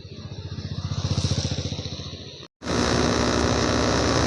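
Motorbike on the Chennai–Kolkata national highway, a pulsing engine drone that swells and fades, then a brief dropout and a steady louder rush of road and wind noise close by.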